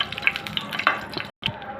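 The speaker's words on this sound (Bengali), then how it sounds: "মরিচটা আমি ভালো করে ভেজে নিব তেলের সাথে" Dried red chillies crackle and sizzle in hot oil in a pan, a brief close burst of frying with a short gap before the spitting resumes.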